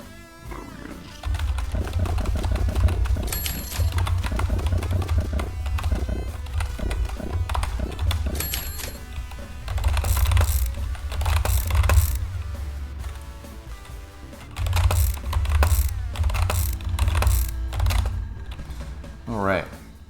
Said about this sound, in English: I'm actually becoming a faster typer.